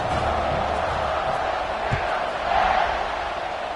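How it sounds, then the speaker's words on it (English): Dense stadium crowd noise from the Madden 26 football video game, a steady loud buzz of many voices swelling slightly near the end, heard after an extra point with no clear speech over it. "this crowd is buzzing after that last score"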